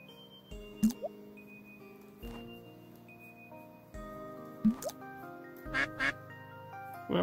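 Video game ducks quack repeatedly as bread is tossed to them, about five sharp quacks spaced irregularly over soft looping game music and light ticking effects.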